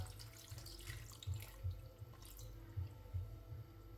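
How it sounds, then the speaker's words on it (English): Water pours steadily into a pot, a continuous splashing gurgle that stays close and moderately loud throughout. "So I'll be adding a little bit of water."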